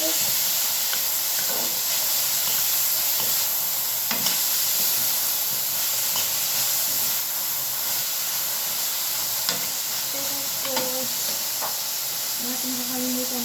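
Food cooking in a pan on a home stove, a loud continuous hiss and sizzle with occasional clicks of stirring and a faint voice near the end.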